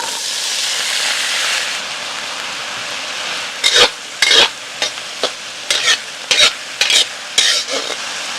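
Cured pork and green peas stir-fried in a wok with diced ginger give a loud, steady sizzle, then a run of rhythmic, scraping stirring strokes about every half second.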